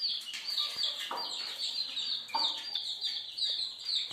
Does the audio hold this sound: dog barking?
no